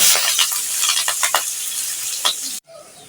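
Onions dropped into hot oil in a pan while cooking biryani, loud continuous sizzling with stirring scrapes and crackles, cutting off abruptly near the end.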